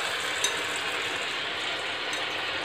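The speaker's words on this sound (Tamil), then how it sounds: "இப்போ ஏத்தம்பழத்தை இந்த மாவுல முக்கி அப்படி எண்ணெயில போட்டு ஃப்ரை பண்ணலாம்" Batter-dipped ripe plantain (pazham pori) fries in hot oil, a steady soft hiss and sizzle with faint crackles, close and continuous.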